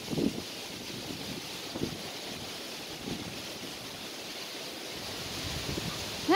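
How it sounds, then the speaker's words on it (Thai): Cold wind blows outdoors, a steady broad rushing hiss with faint gusty buffeting against the microphone and no voices. "ลม"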